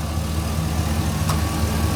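A 2003 Chevrolet Silverado 2500 work truck with a small block V8 idles smoothly, giving a steady low engine drone with no voices over it.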